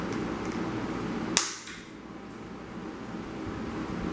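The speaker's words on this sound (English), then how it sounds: "hammer and knock off my tabs for my head gaskets" A single sharp metallic strike rings out as a hammer drives a chisel against an engine block to knock off a head gasket tab during a 360 engine build, close and loud over steady shop background noise.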